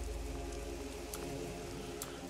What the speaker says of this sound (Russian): Что, дождь что ли идет?